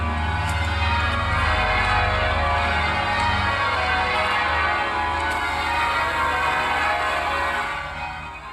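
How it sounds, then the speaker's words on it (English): Church bells ring steadily and loudly throughout from a played recording, a dense wash of overlapping peals that fades slightly toward the end. "Let me play another version of these bells."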